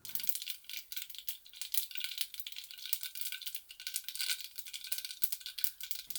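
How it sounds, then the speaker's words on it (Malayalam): Rapid, irregular crackling and popping of a teaspoon of mustard seeds bursting in hot oil, fairly faint and continuous throughout. "ഒരു ടീസ്പൂൺ കടുക് ചേർത്ത് പൊട്ടിക്കുക"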